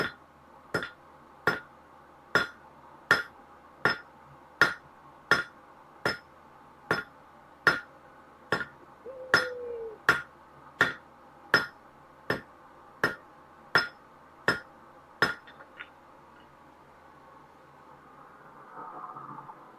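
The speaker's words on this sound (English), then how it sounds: "I'm hammering these way too hard." A hammer strikes hot metal on an anvil while nails are forged with a hot cut hardy, about twenty sharp ringing blows at a steady, fairly quick rhythm, loud and close, then a few quiet seconds.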